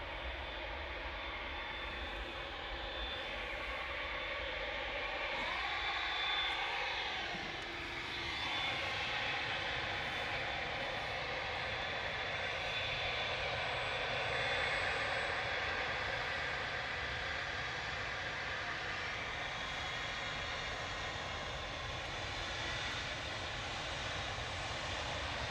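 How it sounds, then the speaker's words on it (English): A Juneyao Boeing 787-9 Dreamliner taxiing for departure at Manchester Airport gives a sustained jet engine whine and rumble with shifting tones, steady and moderately close, with no voices. "Coming straight down Tango for departure now."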